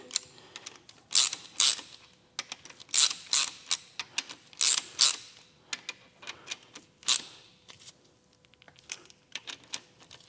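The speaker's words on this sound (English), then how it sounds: "let's just give them a quick snug just to get them cinched down, seated." A hand ratchet snugging connecting rod bolts on a Mitsubishi Evo 8 engine under restoration, clicking in close, sharp bursts of rapid pawl ticks separated by short pauses, with no talking over it.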